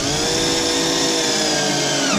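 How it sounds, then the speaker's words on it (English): A power drill bores steadily through the plastic seat lip of a RZR side-by-side, a loud continuous whining grind held close throughout with no talk. "Try to keep your drill pretty level so that as you come through, you're not causing yourself some extra trouble on the other side."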